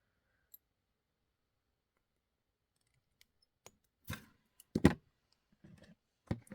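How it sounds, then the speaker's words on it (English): Jewelry wire snipped about a quarter inch from a bend while making charms and dangles, giving a few sharp, close clicks and snaps scattered through otherwise quiet surroundings. "And then we're going to cut it about a 1/4 inch from the bend."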